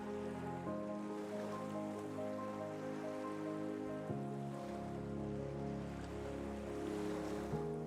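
Ocean waves roll onto the California coast at Monterey Bay, a continuous wash of surf blended beneath a sustained orchestral music score, with no voices.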